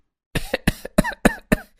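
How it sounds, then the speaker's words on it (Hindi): Five sharp coughs in a row, close and evenly spaced, each one short and harsh. "अरे मुझे तो इतनी ज्यादा खांसी हो रही है,"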